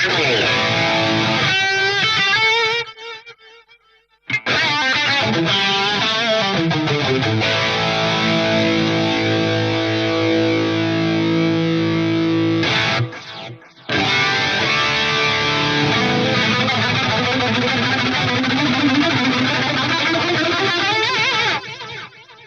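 A Sony rack stereo delay, with the second channel's phase inverted, spreads a repeating electronic musical part across a wide field. It plays loud and continuous with two short dropouts and no voice.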